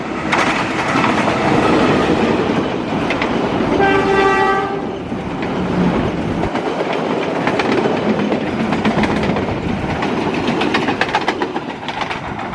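The Pasundan passenger train in Indonesia rumbles loudly past nearby, its horn sounding one long blast early on, followed by a continuous clatter of wheels on the rails.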